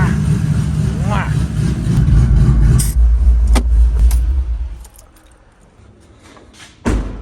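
A cammed 5.3 liter engine with its hood-rat exhaust dump open rumbles loud and deep for several seconds, then falls to a quieter idle, with a brief voice near the start.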